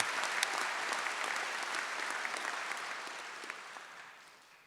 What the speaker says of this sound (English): you most certainly deserve a very, very enthusiastic round of applause from each and every one of us in this hall